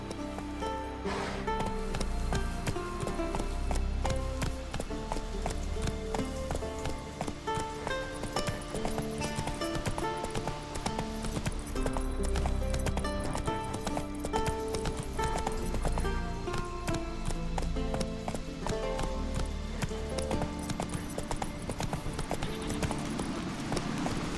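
Geralt's horse Roach galloping in The Witcher 3, a steady run of hoof clip-clop that carries on without a break beneath a dense, loud bed of game music and ambience.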